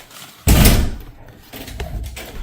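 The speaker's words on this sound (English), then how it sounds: "Really slammed the door on my face?" A door slammed shut in an office building, one loud sudden bang that rings down over half a second, followed by softer rattling knocks as it settles.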